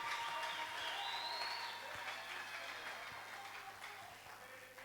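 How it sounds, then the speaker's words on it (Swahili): A church congregation applauding during a sermon, a fairly faint, continuous patter of clapping over a few seconds with a soft sustained tone beneath it. "Est-ce qu'on peut acclamer pour la gloire de Dieu?"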